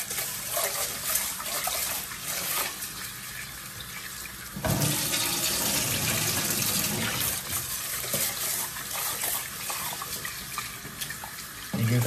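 Rice is rinsed under running tap water in a pot or bowl before cooking, a close, steady rushing splash that surges louder midway as water churns through the grains, with no voices.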